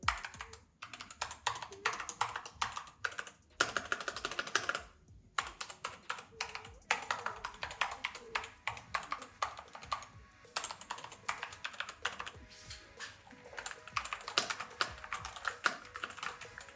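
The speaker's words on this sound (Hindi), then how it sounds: "और इंतहाई खूबसूरत कीबोर्ड है" Rapid, continuous typing on a Skyloong Coral Sea themed mechanical keyboard, close and crisp with dense clicky keystrokes and a few brief pauses.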